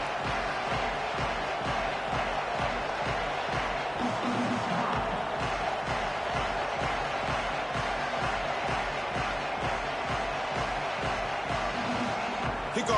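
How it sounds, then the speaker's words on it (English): A steady, loud crowd roar fills a college football playoff stadium, continuous and even throughout with no breaks. "the crowd is making it really hard to communicate and hear each other right now down on the field"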